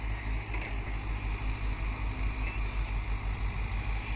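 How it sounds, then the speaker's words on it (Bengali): Motor boat carrying wood along a river, its engine throbbing in a steady low pulsing rhythm at close range, with no talk over it. "কাঠ নিয়ে যাচ্ছে, কাঠ নৌকা করে।"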